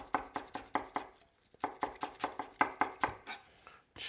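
A knife chops parsley on a board in a run of quick, even strokes, a brief pause in the middle, then a second steady burst of chopping, close and crisp.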